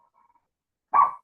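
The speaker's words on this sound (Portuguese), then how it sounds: "o meu pitbull começou a latir aqui" A tiny two-kilogram dog, apparently a Yorkshire terrier, lets out a single short, sharp bark after a near-silent pause, close and clear.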